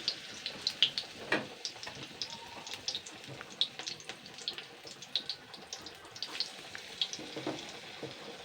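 Egg-battered eggplant fritters fry in hot oil, a soft irregular crackle and sputter with scattered sharper pops, close and fairly quiet, with no talking.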